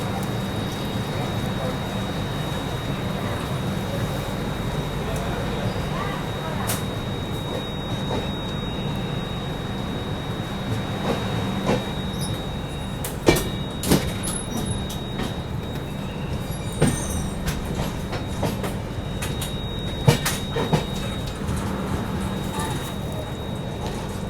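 The Pune Kanyakumari Express pulls out of Renigunta Junction, a station ringed by hills, with a steady low rumble of rolling wagons and occasional sharp clanks and squeals. Voices talk over it.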